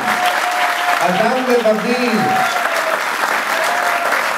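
An audience at a festive city council plenary session in Beit Shemesh breaks into sustained, even applause that fills the room, while someone speaks over the start of it.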